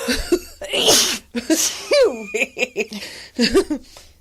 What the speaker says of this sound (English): Because you had to go and sneeze.